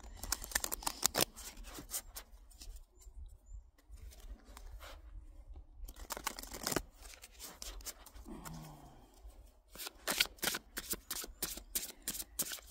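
Tarot cards being shuffled and handled for a reading, giving repeated crisp riffling and snapping bursts close up, with quieter rustling between bursts and no talk.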